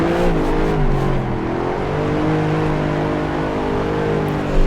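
A Mercedes-AMG SLS sliding in a drifting racing simulator game, its engine holding a steady, loud revving drone that rises and falls slightly in pitch throughout, with no talk over it.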